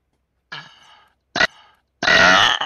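Three burps from a streamer in a burping compilation: a short croak, a brief sharp one, then a long loud rasping belch, each close and clear against silence.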